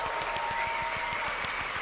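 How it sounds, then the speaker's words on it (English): An audience at a developer panel for the game Mafia: The Old Country gives a brief, steady patter of applause, dense and even, with no voices over it. "Golf clap."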